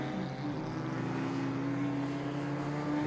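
A supercharged, self-tuned Honda Integra race car drones past on a circuit during a touring car race, a steady, loud engine tone holding without a break.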